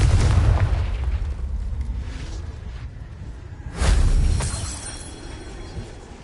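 The Confringo spell fires in Hogwarts Legacy as a booming blast with a whooshing rush, followed a few seconds later by a second louder explosion that rumbles and fades.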